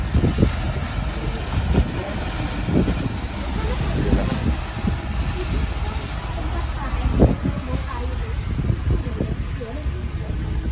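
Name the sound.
sea waves and wind aboard passenger ship KM Kelimutu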